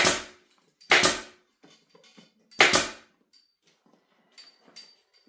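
A staple gun fires sharp, loud clacks into a golf cart seat cover, with two strong shots about a second apart, another near the middle, and a few fainter knocks and handling clicks in between.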